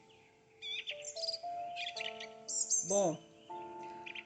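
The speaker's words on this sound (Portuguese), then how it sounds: "ouvindo esta melodia, o barulho dos pássaros" Birds sing and chirp in a quiet setting with a gentle melody underneath, then a brief spoken word rises over the calls.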